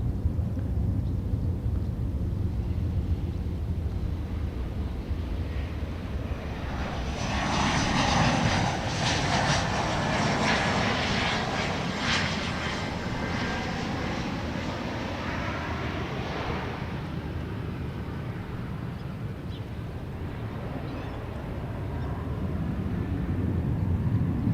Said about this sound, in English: we have an American Airlines coming in over my shoulder from St. Louis in E175